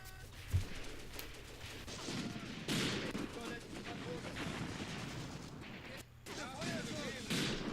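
Gunfire in the war game Graviteam Tactics: scattered distant shots and bursts over a continuous rumbling battle background, with faint talk underneath.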